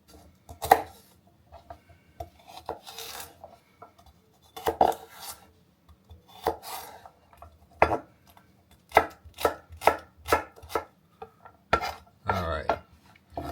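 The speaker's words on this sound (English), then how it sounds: "I am going to chop up a little bit of celery here." A knife chops celery on a cutting board in sharp, close taps, first scattered, then quickening into a rapid run of cuts.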